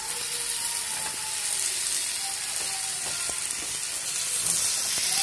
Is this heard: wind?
no